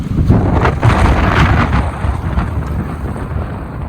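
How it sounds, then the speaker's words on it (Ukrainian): Strong coastal wind in Norway, about 13 to 15 metres per second, buffets the microphone in loud, rumbling gusts, a deep roaring blast that eases slightly toward the end. "в нас тут просто капець вітер"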